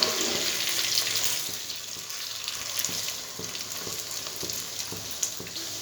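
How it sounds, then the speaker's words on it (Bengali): Soya chunks fry in oil over a high flame, a steady close sizzling hiss with soft scraping taps as they are turned, no one speaking. "এই সময় ফ্লেমটা হাই রেখে ভাজতে হবে, আর হালকা করে উল্টে পাল্টে দেবেন।"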